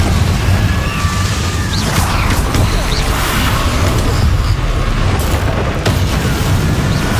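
Repeated spell blasts and fiery explosions in Hogwarts Legacy combat, a loud, dense barrage of booms and crashes with sharp bursts cutting through a constant rumble.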